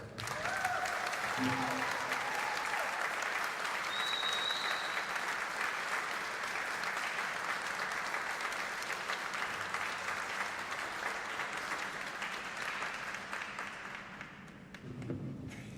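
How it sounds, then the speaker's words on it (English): Sustained applause for cadets at an NJROTC change of command ceremony, a crowd clapping steadily for about fifteen seconds before tapering off, with brief faint voices near the start. "If we could give a round of applause for all cadets."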